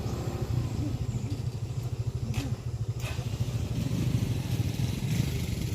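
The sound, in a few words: motorcycle riding on muddy path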